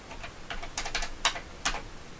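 Keys clicking on a Texas Instruments 3500 calculator: a handful of crisp, close taps spaced unevenly over about two seconds, with quiet room tone between and no talking.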